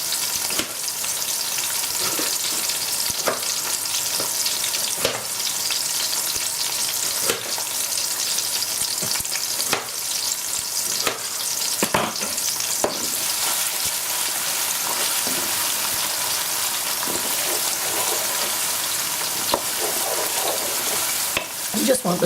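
Onions frying in a pan for watercress saag, a steady close bright sizzle that runs continuously, punctuated by occasional stirring scrapes and taps of a utensil, with no talking.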